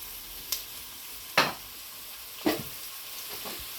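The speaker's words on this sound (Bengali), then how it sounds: "তেজপাতা, ডালচিনি, এলাচি, পেঁয়াজ, কুচি করা রসুনও দিয়া রাখতাম।" Sliced onion, chopped garlic, bay leaf, cinnamon and cardamom frying for a Bangladeshi chicken curry with shim beans, a soft steady sizzle broken by three or four brief stirring scrapes, close by.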